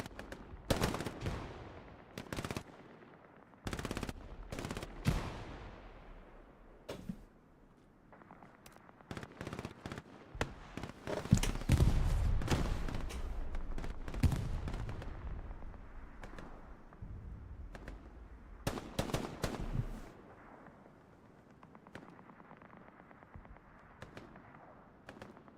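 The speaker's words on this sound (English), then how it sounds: "Rockets flying, machine guns going." Machine gun bursts and rocket explosions from a Hell Let Loose battle, sharp rapid reports and loud blasts in irregular clusters, some close and booming, others more distant, with no voices.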